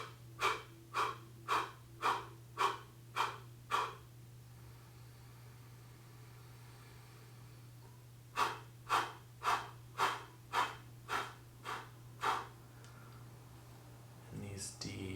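A meditation breathing exercise: a long run of rhythmic, sharp breaths through the mouth, about eight quick pulses, then a pause, then another run of about eight, close and clear over a steady low hum.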